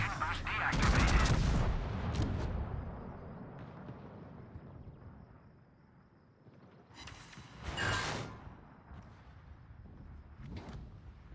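Several gunshots in a shooter video game, a loud burst of rapid fire at first followed by quieter scattered shots and a later sharp blast, with gaps between.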